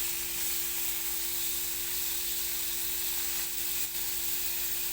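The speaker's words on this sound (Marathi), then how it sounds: "इथे मी पनीर भाजायला ठेवले ते थोडंसं तेल ओतलं आहे" Paneer pieces fry in a little oil in a pan, giving a steady hissing sizzle that stays even and close for the whole stretch, with faint clicks of utensils.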